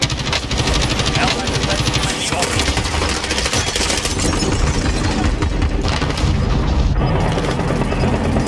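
Gunfire rings out in a Call of Duty Warzone trios match: loud, near-continuous automatic bursts and heavy booms fill the whole stretch, with a voice occasionally mixed in underneath.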